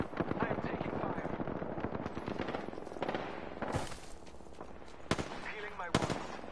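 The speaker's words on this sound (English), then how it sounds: "Pretty sure someone's got a shot on me." Gunfire in the Apex Legends video game, with a fast stream of machine-gun shots at first, then a few sharp isolated cracks later, loud throughout and mixed with other game sounds.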